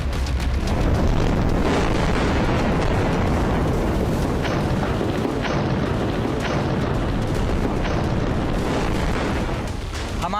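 Explosions blowing up Israeli tanks and armored vehicles in Gaza make a dense, sustained roar of blasts, with repeated sharp bursts cracking through a constant rumbling din, loud throughout.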